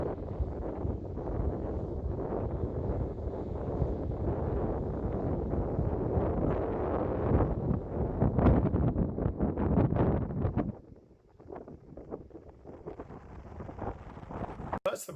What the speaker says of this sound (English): And obviously the wind was up this day.